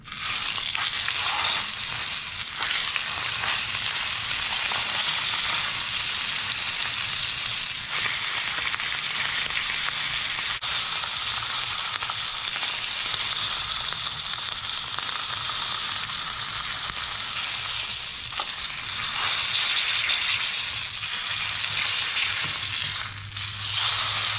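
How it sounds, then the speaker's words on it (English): Beef fillet sears in a hot pan for beef Wellington, a steady, loud, close sizzle and crackle that runs throughout with occasional stirring or shifting noises. "just take the time to sort of get a bit of sear around the edge as well, if you can"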